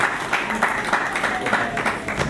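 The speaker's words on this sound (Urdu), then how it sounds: "اور تالیوں کے ساتھ استقبال کیجیے۔" An audience at an Urdu poetry gathering claps to welcome a young poet, a steady burst of applause filling the room without pause.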